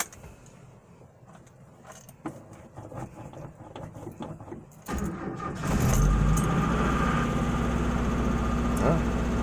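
A Mazda B2000 pickup truck cranks over and its engine fires up at about five seconds, then settles into a steady, loud, close idle that continues alone to the end after quiet rustling beforehand.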